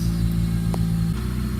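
Toyota Celica engine idling with a steady low rumble and hum, close and continuous, with a slight shift in tone near the end and no talking.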